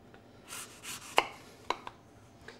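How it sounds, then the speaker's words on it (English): A knife slices a Granny Smith apple into thin pieces, with a few sharp crisp cuts and several softer slicing strokes spread over a short quiet stretch. "I'm going to put a little bit of Granny Smith apple in there. Just going to slice it nice and thin."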